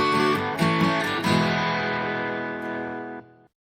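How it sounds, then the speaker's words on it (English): A short podcast reminder sound marking the halfway point: a dense, distorted, reverberant chime-like swell with a few accented hits, fading out over about three seconds. "that sound is the halfway point reminder for those of you who are joining us"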